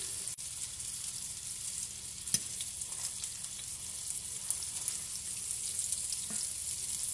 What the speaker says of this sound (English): Cook meat. I want to start browning on one side,